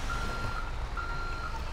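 A truck in GTA 5 sounds its reversing alarm, two evenly spaced electronic beeps over a low engine rumble, moderately loud and close, with no talk.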